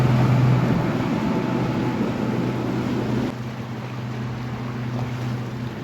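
A Yellowfin boat passes at Jupiter Inlet, Florida, its engine a steady low drone under heavy wind buffeting on the microphone, easing slightly as it moves off, with no talk.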